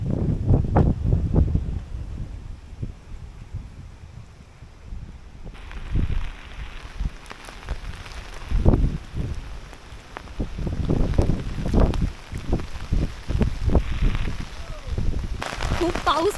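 Heavy rain and strong wind on Konkan farmland after sowing, heard as gusty, rumbling buffeting that rises and falls against the microphone, with a person talking at times.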